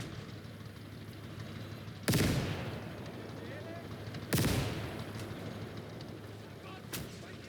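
Mortar fire in the video game Call to Arms: Gates of Hell, three heavy booming impacts spaced a couple of seconds apart, each with a rumbling tail over steady battlefield din.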